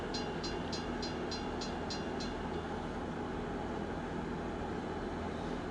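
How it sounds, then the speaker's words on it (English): A small rail car rolls along train tracks at a railway crossing, giving a steady, mid-distance rumble with a quick run of rhythmic clicks near the start, and no talk. "Oh no, it's the little car on tracks."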